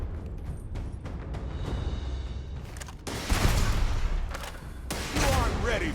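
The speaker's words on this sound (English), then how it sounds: "That motherfucker's firing rockets." Rockets and gunfire from an enemy in the video game Starfield, a dense roaring barrage with heavy bursts that swell midway and again near the end, loud and continuous.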